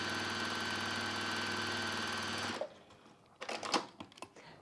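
A sewing machine stitches down a pocket on a handbag, running in one steady, fairly quiet whir for a couple of seconds before stopping, followed by faint handling clicks.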